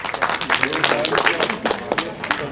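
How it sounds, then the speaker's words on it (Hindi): Audience clapping at a college orientation day at R.A. Podar College, a dense crowd applause that continues steadily throughout with scattered sharper claps and cheering voices mixed in. "उनके लिए प्लीज जोरदार तालियां।"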